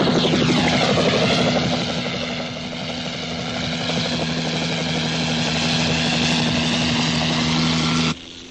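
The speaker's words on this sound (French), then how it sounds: "Ce sont certainement des hélicoptères avec des journalistes." Loud whirring drone of a helicopter, steady and close, with a throbbing rotor pulse that cuts off abruptly near the end.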